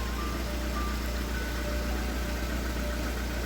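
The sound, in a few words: VAZ Priora engine idling with hydraulic lifter knocking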